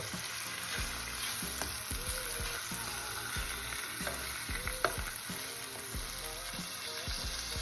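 Bacon and sausage fry in their own grease in a pan, sizzling steadily and close by, with regular scraping and stirring taps along the way.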